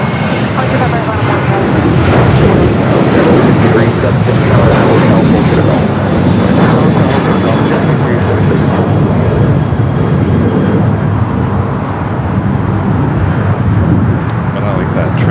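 A fixed-wing airliner roars loudly and continuously on takeoff from runway 25 right at Los Angeles International Airport, a broad, close engine rumble that holds steady throughout.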